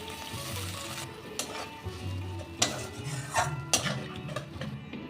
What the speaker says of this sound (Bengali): এবার মশলাটাকে আমি একটু কষিয়ে নেব